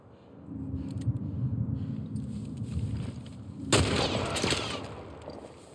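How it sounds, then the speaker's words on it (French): Gunfire rings out in The Last of Us Part 1 over a low game ambience, a few scattered shots at first, then a sharp loud burst of rapid shots near the end. "Il y a un autre gars qui me tire dessus, je crois."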